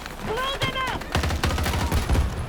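An M16A3 rifle fires in Battlefield 2042, starting with brief speech and then a fast, steady string of loud, close shots that continues to the end.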